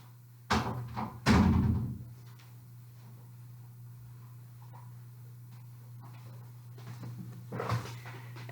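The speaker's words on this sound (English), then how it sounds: "I'm also going to stop and close the door if I can figure out how to do that" An indoor door is shut with two close, solid thumps, the second heavier. A steady low hum fills the room and a few faint knocks follow before more movement near the end.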